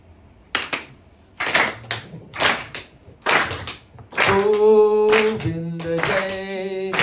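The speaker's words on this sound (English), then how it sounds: "everyone clap your hands." An audience at a Sri Nrisimha Chaturdashi devotional gathering claps hands in sharp, loud bursts about a second apart. Sustained harmonium-like tones and singing voices then join, with clapping continuing over them.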